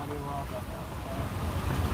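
Muddy brown floodwater pours down like a waterfall after Hurricane Melissa near Gordon Town, Kingston, Jamaica, a steady loud roaring rush with wind buffeting the microphone throughout.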